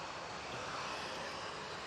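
A Ryanair airliner departs Manchester Airport for Rhodes, its engines a steady, broad roar that holds evenly throughout the short stretch with no voices over it.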